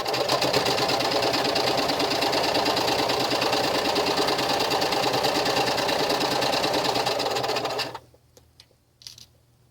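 A sewing machine runs continuously at a fast, steady stitching rhythm while sewing a bag panel, loud and close for about eight seconds before stopping abruptly, leaving a few faint handling sounds.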